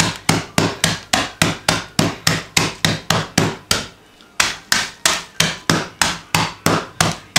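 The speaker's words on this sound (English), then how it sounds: "I have my little tenderizer, and you're just going to break these up" A meat tenderizer pounds pretzels in a fast, even run of sharp, loud knocks, each with a brief crunch, pausing once for about half a second before the strikes resume.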